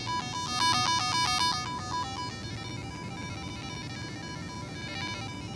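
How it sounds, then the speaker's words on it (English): Bleepy electronic chiptune tones from a motion-controlled toy chirp in rapid stepping patterns, loudest early and then fainter, over a steady hiss of background noise. "as you move it, it makes kind of cool, bleepy, like chiptune synth tone effects"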